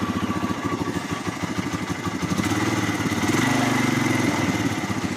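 A Hero Honda Karizma motorcycle engine, fitted with a Shine carburetor, idles close by with a steady, throbbing beat that rises slightly partway through, running alone.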